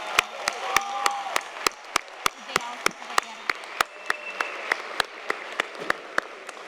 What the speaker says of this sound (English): How about a round of applause for our Associate in Applied Science and Associate in Engineering Science degree